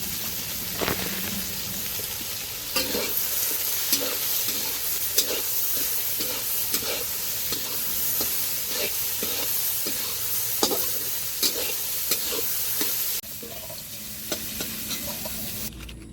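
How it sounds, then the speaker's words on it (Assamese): Soaked soybean chunks sizzle and crackle in hot oil, with repeated stirring scrapes in an irregular rhythm over a constant frying hiss. "এতিয়া ভালদৰে ধুই চেপি তেলত ভালদৰে ভাজি লওঁ"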